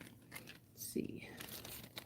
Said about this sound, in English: Put these guys into a new baggie since this one is now cut open.